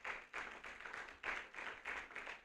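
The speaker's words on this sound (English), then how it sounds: "Can we give a clap offering?" Church-style congregation at an engineering school induction ceremony giving a round of clapping, a faint, rhythmic burst of hand claps in pulsing waves, distant and without talk.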